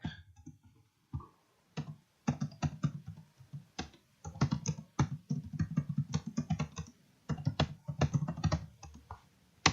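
Quick bursts of clicking keystrokes come from a computer keyboard as plugin names are typed in, with irregular rhythm and short pauses, close and fairly quiet.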